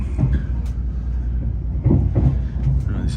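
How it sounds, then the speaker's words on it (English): A passenger train travels on rails on a UK route toward Cottingley, giving a steady low rumble of wheels and carriages with a few rhythmic clunks, heard from inside and without talk. "let's get on our train to Cottingley"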